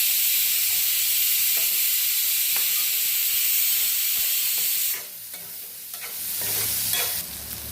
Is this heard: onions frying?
yes